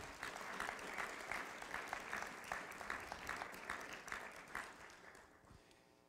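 A university winter commencement crowd claps steadily for the graduates, a fairly distant, even wash of many hands in a large hall that thins out and fades over the last second.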